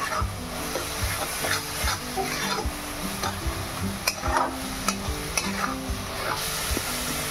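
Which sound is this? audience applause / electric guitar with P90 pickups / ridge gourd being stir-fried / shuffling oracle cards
ridge gourd being stir-fried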